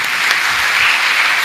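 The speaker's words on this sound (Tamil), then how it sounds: "கைத்தட்டி அவங்களுக்கு வாழ்த்து சொல்லுவோம்" A seated audience of children and adults claps together in a hall, a dense, loud wash of applause holding steady for the whole moment with no voices over it.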